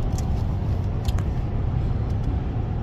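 A car cruises on the road toward SoFi Stadium, with a steady low rumble of engine and tire noise heard from inside the cabin and a few faint ticks and clicks.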